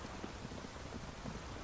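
Steady rain pouring down in The Witcher 3: Wild Hunt, a dense even hiss with soft patter, no voices.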